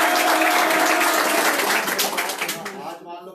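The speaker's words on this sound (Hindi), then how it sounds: "पहली बार सुरेश जी वास्ते तालियां बजाओ" A burst of group applause that thins out and fades over about three seconds, with a voice faintly underneath.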